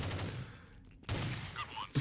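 A quick burst of heavy gunfire from a high-damage gun in a first-person shooter video game: two loud volleys split by a short gap, with small game effects in between and a final thump at the end.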